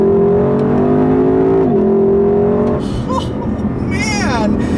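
A 2018 Lexus LC 500 V8 revs hard in Sport Plus mode, engine pitch climbing loudly and close, then shifting as the tires scrabble for grip, with squealing chirps near the end.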